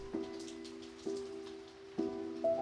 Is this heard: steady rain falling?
yes